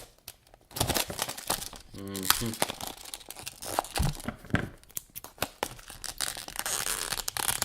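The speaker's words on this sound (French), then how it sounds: "comme c'est une boîte un peu différente, je sais pas trop comment l'ouvrir" An unusual cardboard box from a puzzle-cube unboxing is pried open with crinkling, tearing and rustling packaging sounds, close, amid a person talking.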